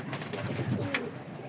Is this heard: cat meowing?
no